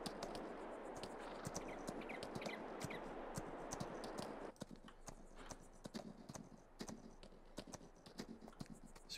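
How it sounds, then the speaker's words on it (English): Horse hooves clip-clop steadily in a quick, even rhythm in Farming Simulator, riding off-trail on the Land Of Italy map, with soft rustling in the background and a quieter stretch partway through. "riding a horse around this thing, getting off the trail"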